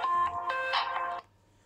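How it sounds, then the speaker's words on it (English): A pre-installed ringtone plays on an Alba retro phone, a short bright electronic melody of a few tones that stops abruptly and leaves a faint hum. "So there's only a couple of pre-installed tones there"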